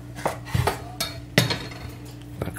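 Knife cutting a pattypan squash in half on a board, several sharp knocks and clacks spaced irregularly, close and fairly loud, with no talking.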